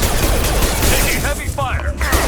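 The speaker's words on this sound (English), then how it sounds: "Taking heavy fire!" Heavy gunfire in a Mass Effect 2 battle at an observation post: a dense, loud barrage of shots runs throughout, with voices shouting over the fire.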